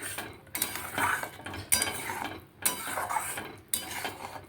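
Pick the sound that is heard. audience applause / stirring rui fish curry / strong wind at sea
stirring rui fish curry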